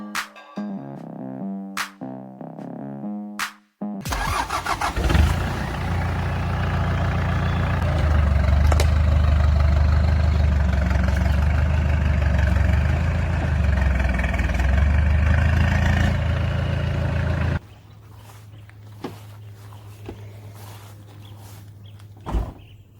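A two-door Mitsubishi Pajero, a Japanese import, starts up in an auto repair shop and idles loudly and steadily while reversing, the engine note dropping to a quieter idle near the end.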